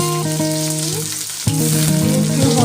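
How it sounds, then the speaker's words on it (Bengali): Chopped garlic and onion fry in hot oil in a wok for a khichuri tempering, a loud, close, steady sizzle that flares briefly midway as more goes in. "চুলায় কড়াই বসিয়ে দিলাম, দিয়ে দেব রসুন কুচি, পেঁয়াজ কুচি,"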